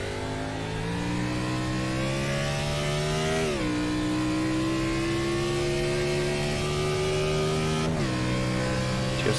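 A Chevy race car at the Daytona Road Course in iRacing holds a loud, steady engine whine close by as it climbs in pitch, breaking twice with quick gear shifts that drop the tone before it climbs again.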